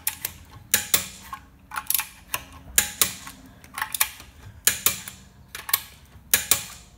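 Car wheel nuts being tightened with a torque wrench, giving a steady series of sharp mechanical ratcheting clicks in regular bursts, close and clear with no talking.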